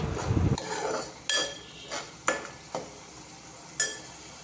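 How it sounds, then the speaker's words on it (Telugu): Onion paste, rock salt and chili powder are mixed by hand for an Andhra-style sea fish curry, heard as a few separate clinks and scrapes of a spoon against a pot after an opening rustle, close and with no talking. "ఇవంతా బాగా మిక్స్ చేయండి."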